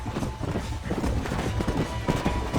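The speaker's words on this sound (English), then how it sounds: "There's the horses." Galloping horses in the Red Dead Redemption western video game, quick, loud hoofbeats drumming steadily up close over a low rumble of movement.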